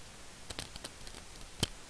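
A few soft, quiet clicks of computer keyboard keys typing an exit command in Oracle SQL Plus, irregular and close, ending with one sharper tap of the enter key.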